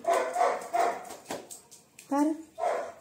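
A Labrador dog playing hide and seek indoors lets out a string of close, high whimpers and short yips, rising and falling in quick bursts.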